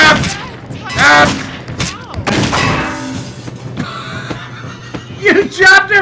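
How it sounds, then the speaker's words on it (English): Bursts of heavy gunfire and thuds from a very large gun in the video game Postal 2, several booming shots spread across the clip with shouting voices in between. "Holy shit, she has a very large gun."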